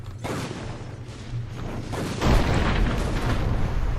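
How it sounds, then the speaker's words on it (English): Deep booming cannon blasts from Dungeon Siege 3 roll in over a dense rumbling background, growing heavier and louder midway through. "Ready the cannons."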